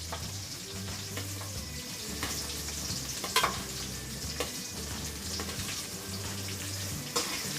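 Chopped large onions softening in hot oil in a pan for a Koduva fish curry, a soft continuous sizzle with occasional stirring clinks and scrapes, quiet and close.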